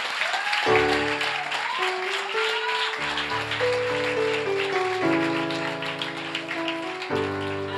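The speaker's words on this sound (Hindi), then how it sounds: "और तालियां क्यों बाजे हो?" A church congregation breaks into sustained applause, a steady wash of many hands clapping beneath loud, held keyboard or organ chords that shift every few seconds.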